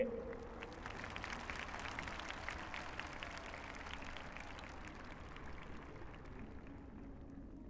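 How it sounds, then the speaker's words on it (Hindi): Large crowd at an Independence Day speech at the Red Fort clapping for medal-winning daughters, sustained distant applause like pattering rain, faint and even throughout. "गर्व करें और ताली बजाइए उन बेटियों के लिए"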